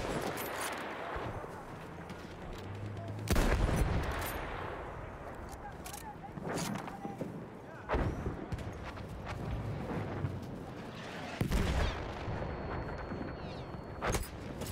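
Gunfire in the video game Battlefield 1, with sharp shots and explosive bursts cracking at intervals over a constant dense battle din, mixed with some talk.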